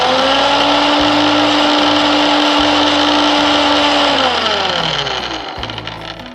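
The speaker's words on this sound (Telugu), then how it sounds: "ఇప్పుడు మనం ఈ టొమాటో ఏవైతే కాస్త వేడి చేసుకున్నామో వీటిని గ్రైండ్ చేసుకుందాం" A mixer grinder grinds heated tomatoes for tomato chutney with a loud, steady motor whine close by. The whine holds for several seconds, then slows and fades as the machine winds down.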